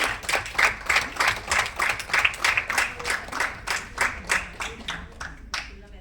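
An audience at an award function for artists applauds with strong, dense clapping that stays lively and even for about six seconds before starting to thin out near the end.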